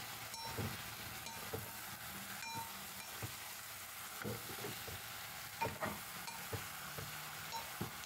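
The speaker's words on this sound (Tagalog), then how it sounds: "Lagyan ko natin ng daw ng laurel. Saka natin haluin." Stirring a simmering dish right after bay leaves go in, with soft irregular scrapes and clinks of a utensil against the pot over a faint steady sizzle, quiet and close.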